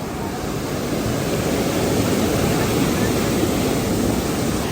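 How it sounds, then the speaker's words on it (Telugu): Water flows at Pakhal Lake in Warangal with a loud, steady, unbroken rush that fills the whole clip, close by and with no other sounds on top. "వాటర్ ఫ్లో సౌండ్ విన్నారా ఫ్రెండ్స్ ఎట్లా ఉందా"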